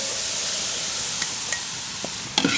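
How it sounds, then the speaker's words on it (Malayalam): Grated coconut sprout frying in ghee in a hot pan, a steady close sizzle with a few sharp clicks and scrapes of stirring toward the end. "ഇത് നല്ലോണം ഒന്ന് ഇളക്കി എല്ലാ ഭാഗത്തേക്ക് ഈ നെയ്യൊക്കെ ഒന്ന് വരുത്തിയിട്ട് നമുക്കൊന്ന് വറുത്തെടുക്കാം"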